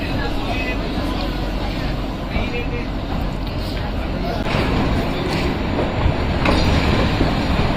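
Shimla to Kalka toy train, train no. 52458, rolling along with a steady close rumble and faint rhythmic wheel clatter, while people talk over it throughout.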